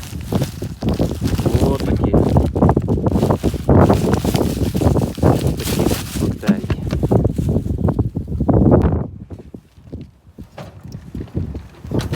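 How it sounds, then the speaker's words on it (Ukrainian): Strong wind buffets the microphone in heavy, rumbling gusts while a person talks in a field during soybean sowing with an MTZ-80 tractor, easing briefly near the end before picking up again. "вітер такий, що голову здуває"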